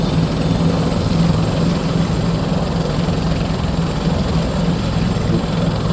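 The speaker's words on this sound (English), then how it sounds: "We'll listen to the shutdown sounds." Simulated Bell 412 helicopter engine in the P3D flight simulator winding down at shutdown, a steady loud broadband turbine and rotor roar with a low hum, continuous and close with no talking.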